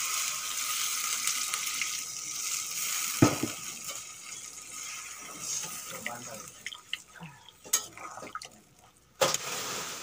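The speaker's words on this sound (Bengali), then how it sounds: "এখন দিয়ে দেবো জল" Water is poured into a pan of sautéed bottle gourd and potato curry, a splashing pour with some clatter and a few sharp knocks, while a voice speaks in the background.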